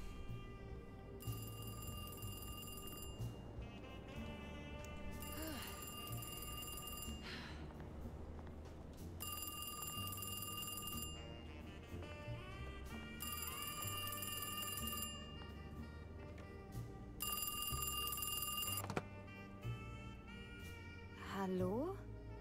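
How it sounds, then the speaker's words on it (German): A telephone rings in the video game Alone in the Dark: five bursts of a bright ringing bell, about two seconds each, separated by short pauses over low background game sound. "Telefon."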